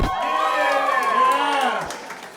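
A comedy club crowd at Just For Laughs Toronto 2023 responds with loud cheering, whooping and hollering voices plus some clapping, a sustained burst of shouts that swells and then fades.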